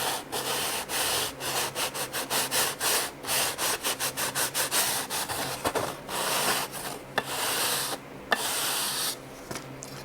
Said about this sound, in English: we're going to give it a quick sand just to make sure that they're nice and true